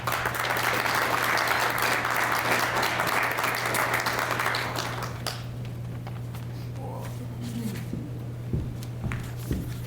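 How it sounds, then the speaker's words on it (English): An audience at a chamber of commerce annual meeting and awards event applauds steadily for about five seconds, then the clapping thins to scattered claps and quiet room noise, with a low steady hum underneath throughout. "So I would like to give Ashley a round of applause"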